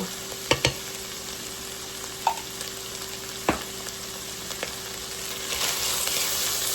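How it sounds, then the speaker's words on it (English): Tomato paste and beef fry in a pot with a steady low sizzle, broken by a few sharp clinks of a spoon stirring against the pot; the frying rises toward the end, with no talk. "I am just going to stir my tomato paste around because the longer you cook it with your beef, the richer the flavor is going to be"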